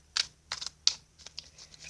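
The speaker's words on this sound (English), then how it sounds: "Let me go ahead and start shuffling my tarot deck for you now." A tarot deck is shuffled with a series of soft, quick, crisp card riffles and taps, quiet and close, coming in irregular bursts with no talking.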